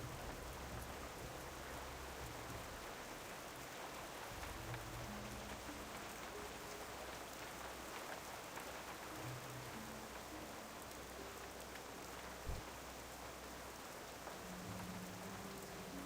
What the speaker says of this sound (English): Oh, and the rain has started.